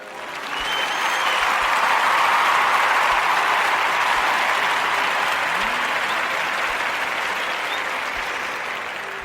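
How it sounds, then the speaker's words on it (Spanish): Applause from a church congregation swells in after a moment of quiet and holds as a dense, even wash of clapping for several seconds before gradually easing off, with no talking over it. "Estos aplausos son para ustedes."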